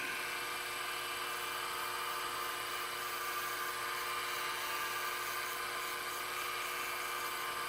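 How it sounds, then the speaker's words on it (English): A machined part for a model engine is deburred with a small power tool, giving a faint, steady high whirring buzz that continues unchanged, with machine-shop hum underneath. "Deburr it real quick."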